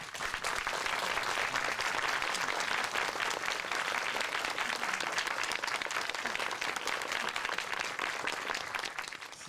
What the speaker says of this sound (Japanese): ちょっと拍手をお願いいたします